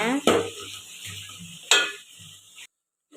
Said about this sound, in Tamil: மஞ்சள் பொடி கொஞ்சமாக போட்டு நல்லா வதக்கிக்கிங்க